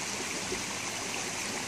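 Mountain stream water rushing steadily on Pelister mountain, a dense, even wash of flowing water heard up close and alone, with no voices.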